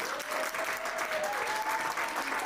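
Steady applause from an audience at an immigration law event fills the space, dense and continuous throughout, with a faint murmur of voices beneath.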